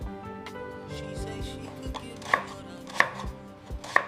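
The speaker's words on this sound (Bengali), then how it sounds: "এবার এই ফাঁকে আমি সবজিগুলো কেটে নেব।" Vegetables being chopped for chilli chicken, a knife striking a board with irregular close taps and a few sharper, louder chops over quiet kitchen background.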